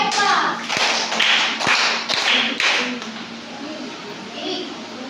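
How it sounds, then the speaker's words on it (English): A classroom of children claps in unison, a handful of sharp, evenly spaced hand claps standing out over loud room noise and voices. "Give yourself 5 claps."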